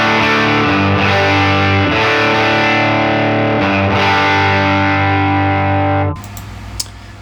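Electric guitar played through a Helix amp modeler on stock gain settings, with aggressive high end: sustained, heavily distorted chords ring loud and alone for about six seconds, then cut off to quiet hum.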